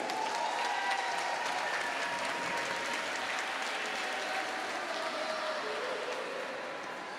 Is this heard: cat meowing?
no